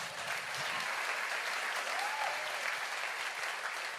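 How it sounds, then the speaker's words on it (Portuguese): Church congregation gives steady, moderately quiet applause during a sermon, a continuous wash of many hands clapping together with no pauses. "Aplauda Ele."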